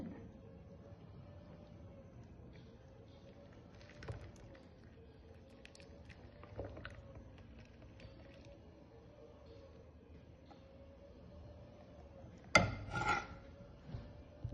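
A bar of soap is grated to remove lumps, a quiet steady scraping at an even pace, with a few sharper knocks and a louder clattering burst near the end.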